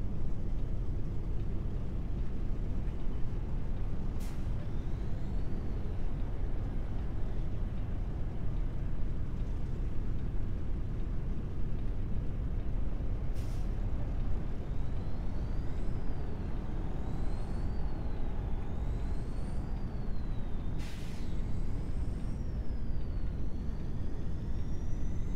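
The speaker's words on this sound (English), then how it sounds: "I'll let you guys listen to the truck." In American Truck Simulator's Oklahoma map, a Rollin 389 truck drones with a steady, low engine rumble, punctuated by three sharp air-brake hisses, with no talking.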